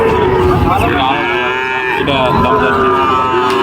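Two Sahiwal cattle offered for sale give one long, loud, close moo that carries on steadily for several seconds.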